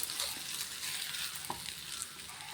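Cooked ivy gourd thoran being stirred in a pan, a soft continuous sizzle with light scraping and a couple of faint utensil taps, fairly quiet and free of talk.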